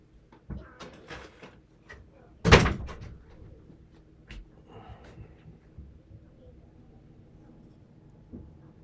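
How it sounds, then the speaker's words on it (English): A door swings shut with one loud, close thud in a quiet indoor room, set among a few smaller knocks and handling sounds, with faint background noise continuing afterward. "Close the door."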